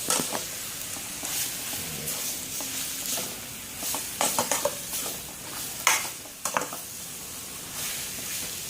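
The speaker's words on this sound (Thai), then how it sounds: "จริงแล้วมันก็ต้มสุกแล้วล่ะ แต่ผัดเพื่อให้มันหอม" Pounded, pre-boiled jackfruit being stir-fried in a pan, with a continuous sizzle broken by repeated scraping and clacking of a utensil against the pan, close and fairly loud, no talking.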